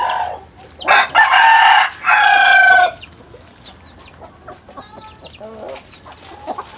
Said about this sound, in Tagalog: Dumami na ang manok ni nanay.